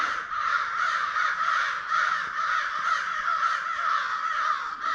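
A group of crows caw repeatedly in the woods, harsh overlapping calls forming a dense, continuous chorus that stays loud and close throughout with no voices.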